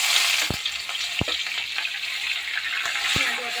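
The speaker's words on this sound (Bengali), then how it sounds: "তেলটা গরম হয়ে গেছে, এরপরে দিয়ে দেবো পেঁয়াজ বাটা" Onion paste frying in hot oil gives a steady loud sizzle, with a few sharp clicks from a spoon stirring the pan.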